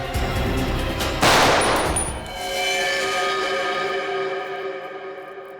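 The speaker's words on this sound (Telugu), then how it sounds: "తుపాకీ పేలింది కానీ నేనెవరిని కాల్చలేదు." A gunshot rings out once, loud and close, as a sharp burst that echoes and rings into a fading tail in a tense confrontation scene.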